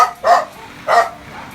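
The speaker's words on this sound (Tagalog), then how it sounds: "Nagwawala yung mga aso, sinong dumating?" Dogs bark at a person arriving, two loud close barks about half a second apart, with quiet background between them.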